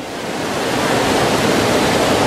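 Haew Narok waterfall at Khao Yai, a powerful roaring cascade heard as a loud, steady rush of water that swells slightly and holds with no voices.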